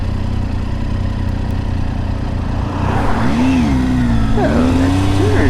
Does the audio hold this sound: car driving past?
yes